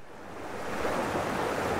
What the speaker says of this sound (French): alors ça, c'est un ruisseau qui va rejoindre l'Asmois